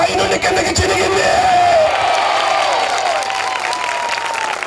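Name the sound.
audience clapping at a Christian worship gathering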